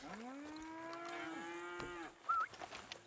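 Cow mooing in Red Dead Redemption 2, one long, drawn-out low moo that rises and then falls away, followed by a brief higher creak or bird-like squeak, with faint game ambience behind.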